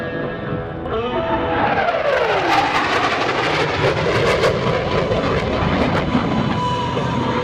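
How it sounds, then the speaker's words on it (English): A CF-18 Hornet jet makes a high-speed pass near the sound barrier at an airshow, a loud, sustained roar that sweeps down in pitch as it passes and keeps rumbling steadily for several seconds. "Flying right on the edge of the sound barrier, watch from the right for the high-speed pass."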